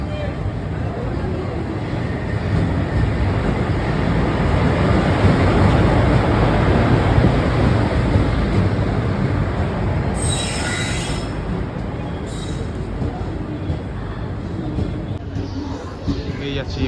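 The Tista Torsa Express rolls into a station with a loud, sustained rumble and rising metallic wheel squeals. A sharp high screech cuts through partway along.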